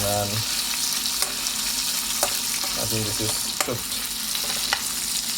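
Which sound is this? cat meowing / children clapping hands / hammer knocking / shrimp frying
shrimp frying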